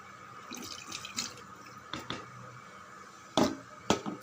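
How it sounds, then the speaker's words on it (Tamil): Water being drained from soaked poppy seeds and cashews in a kitchen, heard as a few brief, close splashes and drips, with quieter trickling before two sharper pours near the end. "தண்ணி அதிகமாக இருக்குது, கொஞ்சம் வடிகட்டிக்க"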